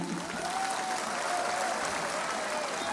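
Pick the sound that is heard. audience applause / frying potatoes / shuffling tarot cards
audience applause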